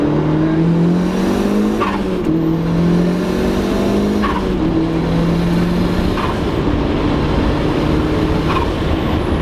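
A turbocharged Mazda Miata making around 270 wheel horsepower pulls hard through second gear, its engine note rising in repeated sweeps, loud and close from inside the car, with no talking.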